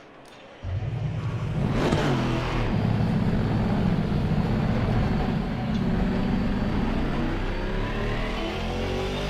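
An Aston Martin race car in a racing game starts with a sudden engine roar and a rising rev, then holds a steady, loud, droning engine tone close up, with no talk.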